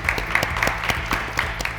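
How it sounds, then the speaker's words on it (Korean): An audience at a finance industry talk concert applauds, with sharp claps recurring in a loose, fairly regular rhythm over a low background murmur of the hall. "일단은 박수 한번 치실까요?"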